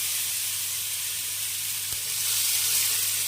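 Tilapia fish with onion paste and tomato sizzles steadily in a hot pan, giving a close, continuous frying hiss and a faint low hum beneath it.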